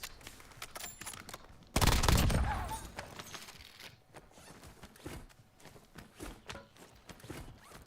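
Gunfire directed at the player in a first-person shooter, a loud burst of shots and impacts that swells and fades, followed by scattered lighter cracks and footstep-like clatter.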